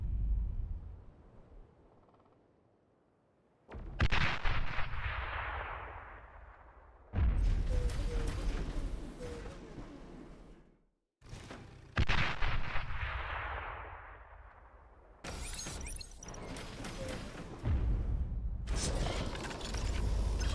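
Weapon fire from units in a StarCraft: Brood War match, with several booming artillery-like blasts that each fade into a decaying rumble, separated by brief quiet gaps.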